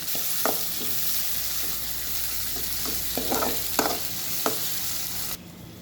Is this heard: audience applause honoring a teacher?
no